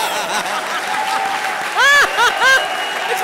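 A studio audience at a Hindi comedy show claps in a dense, steady wash of applause, with voices calling out and brief laughter rising over it.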